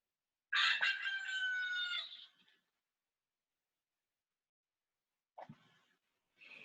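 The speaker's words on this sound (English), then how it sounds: "Can you crow like a rooster?" A single loud rooster crow rings out close by for about two seconds, followed by a few brief, fainter clucks near the end.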